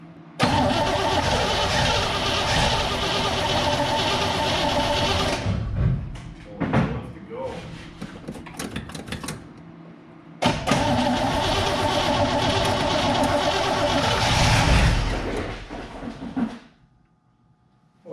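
Engine of a 1966 Chevrolet K20 4x4 truck cranks and fires up loudly, runs roughly, drops off briefly, then catches again and runs before cutting out; close and loud, with a few voices.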